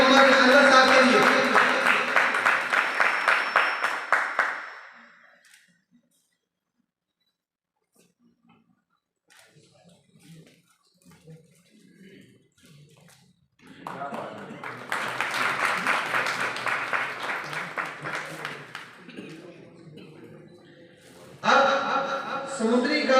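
Audience applause for Mian Mohammad Anwar at the Pride of Summndri award ceremony 2023, a loud burst of clapping that fades out, then quiet, then another long round of applause rising again near the end.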